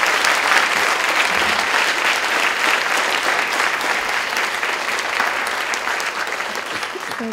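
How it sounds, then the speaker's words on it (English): An audience at an arangettam dance recital claps in a steady, full round of applause that fills the whole stretch, loud and continuous with only slight fading near the end. "A huge round of applause for our little surprise at the end"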